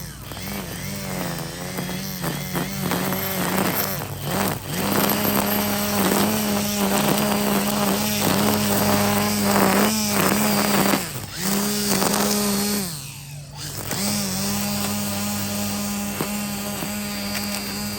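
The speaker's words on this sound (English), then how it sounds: "Now we're going to do a little weed whacking." Milwaukee Quik-Loc cordless string trimmer cutting weeds, a loud steady motor whine that holds for several seconds, briefly eases off and dips near the middle and again late, then resumes without any talk.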